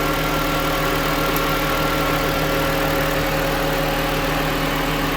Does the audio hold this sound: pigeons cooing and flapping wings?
no